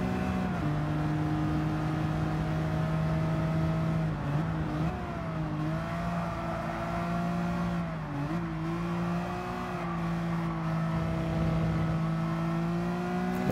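Race cars, including a 2002 Dodge Viper GTS and an M3, in a Gran Turismo 7 daily race, producing a steady layered engine drone with brief pitch dips at gear changes, continuous and close, with no voices.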